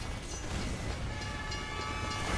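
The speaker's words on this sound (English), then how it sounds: "Is that train going to hit anybody?" A train thunders past on the Railbridge map of a team shooter match, a loud continuous rumble and rattle of wagons with a faint horn-like tone riding over it throughout.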